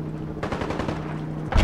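Gunfire in modded Fallout 4 on Xbox, a short rapid burst of shots up close starting partway in, followed by another sharp loud report at the end.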